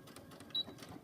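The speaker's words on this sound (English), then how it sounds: "I like to do it on my sewing machine right here" A home sewing machine runs a short stitching burst on pajama fabric, working a neckband and placket; the whir is faint and brief with a small high whine in the middle, and no one talks over it.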